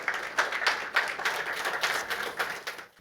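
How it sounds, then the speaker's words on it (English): An audience at an executive presence leadership event claps for a speaker, moderately loud applause with a pulsing, uneven rhythm of many hands that fades out at the close. "Let's give a big round of applause to Gaurav Arora."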